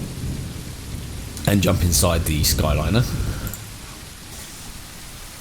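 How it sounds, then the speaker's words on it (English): Steady rain patters on the windows of a Skyliner tour bus in Tourist Bus Simulator, a constant hiss running through the whole stretch while someone talks briefly over it in the middle. "Love the rain effect on those windows."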